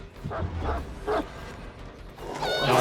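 Dog barks in a Dead of Winter competitive match, two or three short yelps and barks over game noise, with a commentator talking throughout.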